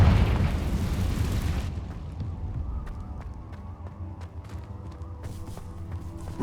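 A Confringo fire spell blasts off in Hogwarts Legacy with a loud, roaring explosive burst for over a second, then fades into a low rumbling game ambience with scattered faint clicks and tones.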